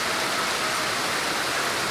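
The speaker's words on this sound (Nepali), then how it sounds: "कतारमा 1 वर्षको बसाइपछि पानी परेको अवस्था" Rain falling in Qatar, a steady even hiss of drops with no distinct individual impacts, continuous throughout.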